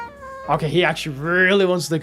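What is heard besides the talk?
cat meowing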